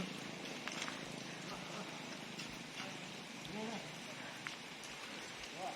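Steady rain patters down on a surface, a continuous wash of drops with faint voices and movement underneath.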